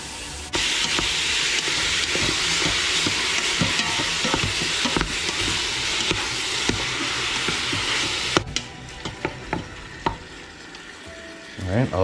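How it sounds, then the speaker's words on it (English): Venison and onions sizzle and fry in a hot pan with a steady loud hiss, stirred with scraping knocks; the sizzle cuts off near the end, leaving a few separate clanks. "I want to brown those with my meat."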